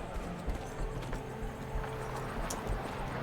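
Hooves of a horse clip-clop on the ground in Evil West, a steady run of soft, muffled hoofbeats under a low ambient game rumble.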